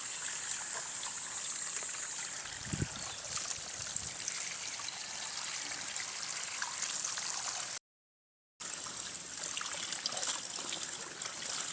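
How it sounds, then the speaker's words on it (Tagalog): Water trickles and splashes steadily during hand-washing of laundry at home, with a brief louder slosh early on and a short gap of silence partway through, and no talking. "Maglaba tayo guys."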